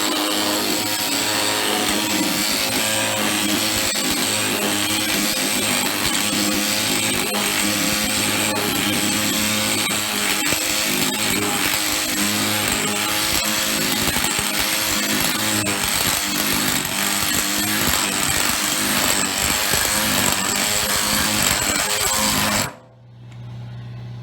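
An OX planishing hammer works thin 30-thousandths sheet metal with a loud, continuous rapid hammering drone that runs steadily and then cuts off abruptly near the end.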